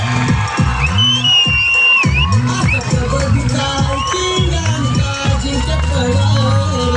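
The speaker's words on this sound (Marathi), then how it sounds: "टाळ्या जेवढे वाजवायचे तेवढे वाजवा" A crowd cheers and shouts at a kabaddi player's felicitation, a lively burst of voices and whoops mixed with someone speaking loudly over it.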